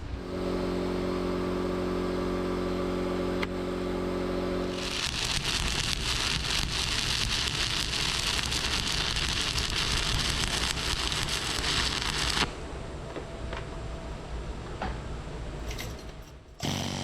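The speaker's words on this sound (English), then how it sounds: "just continue welding to this outer edge and just continue this angle right here" A steel Kelly bar adapter for a drill rig being welded: a low machine hum first, then a continuous loud crackling arc hiss for about eight seconds before it cuts off.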